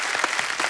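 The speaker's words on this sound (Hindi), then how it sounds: "एक बार जोरदार तालियां हो जाए" Studio audience applause on a chat show, a short burst of dense clapping held at a steady level.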